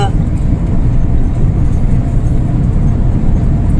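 Cars go past on a road while filmed from inside a vehicle, a loud, low, continuous rumble of engines and tires close by.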